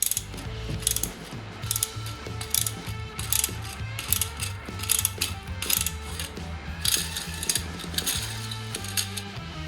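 A five-blade steel trimmer head is fitted and tightened onto a grass trimmer's bolt, producing rapid, rhythmic ratcheting clicks close up, in steady repeated bursts throughout.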